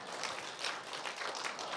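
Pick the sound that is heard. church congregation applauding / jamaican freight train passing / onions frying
church congregation applauding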